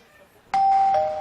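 A doorbell chime on a comedy variety show set in a computer shop, apparently mimicked by a voice: one sudden loud, sustained two-tone ding-dong that starts abruptly and rings on to the end.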